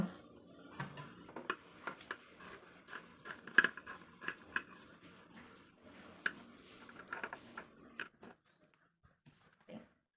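Scissors snip through fabric for a kurti, quiet close clicks and crisp cuts in uneven bursts that thin out to a few isolated snips near the end.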